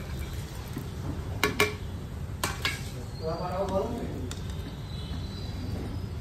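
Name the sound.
stirring flattened rice pulao with fried nuts in pan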